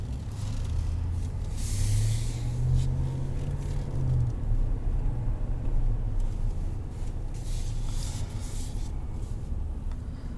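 A 2020 Ram 1500 Rebel pickup rolls along the road with a steady low engine drone and road rumble heard from inside the cab, plus occasional passing whooshes of air, with no one talking.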